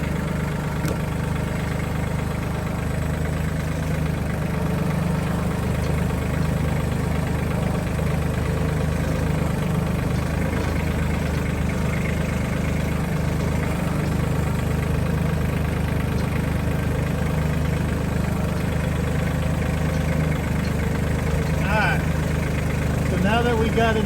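A tractor engine idles and chugs steadily nearby as it lifts a brush hog mower, a continuous low rumble with faint mechanical clanks toward the end.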